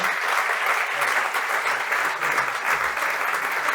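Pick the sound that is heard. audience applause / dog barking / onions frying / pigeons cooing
audience applause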